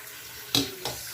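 Short bursts of water splash from a kitchen tap, two quick gushes in about a second, close and fairly loud with no talking, as water runs for washing homemade tinned tomatoes.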